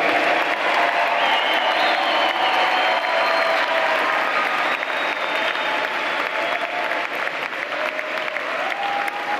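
Audience at a graduate commencement ceremony clapping, a dense continuous round of applause from a large crowd that stays loud and even throughout, with faint voices mixed in.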